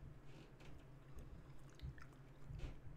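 Close, soft chewing of a cooked, soggy gherkin, with wet squishy bites and mouth sounds over a low steady background hum, no talking.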